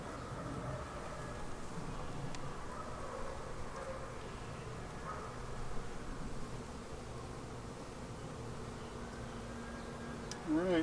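Honey bees swarming over a hive frame, a dense, steady droning hum that holds evenly throughout, with a few faint handling ticks and no clear talk.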